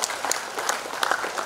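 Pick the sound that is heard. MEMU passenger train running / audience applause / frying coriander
audience applause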